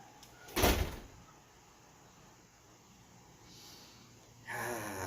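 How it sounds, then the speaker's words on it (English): A door slams shut with one sharp, loud bang near the start, followed by quieter room ambience and a soft hiss later. "then she slammed the door"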